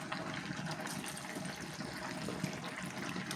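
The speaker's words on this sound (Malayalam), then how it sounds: "അപ്പോൾ നമുക്ക് 1 ഗ്ലാസ് വെള്ളം ഇപ്പോൾ ആഡ് ചെയ്താൽ കേട്ടോ." Water from a glass pours into a cooking pot of pork and koorka, making a steady, close gushing splash that lasts the whole moment without pause or speech.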